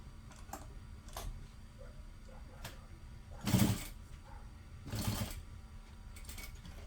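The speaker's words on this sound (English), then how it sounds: "So right now I'm going to sew along this fold here." A sewing machine stitches along a fabric fold, giving a few short mechanical bursts and ticks with quiet pauses between, close and fairly soft.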